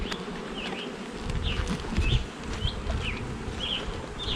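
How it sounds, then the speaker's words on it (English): Honey bees buzz steadily at the entrance of a hive in an outdoor apiary, a dense close drone with individual bees whining past. "right here are guard bees"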